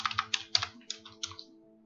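Quick keystrokes clatter on a computer keyboard, about a dozen close, crisp taps in an uneven rhythm over a faint steady hum.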